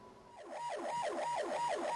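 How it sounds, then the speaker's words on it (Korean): A fire truck's siren wails on an emergency call through congested traffic, a steady rising and falling electronic sweep repeating about every quarter second, moderately distant and growing slightly louder. "소방차가 꽉 막힌 도로를 가까스로 뚫고 반대쪽 차선으로 진입합니다."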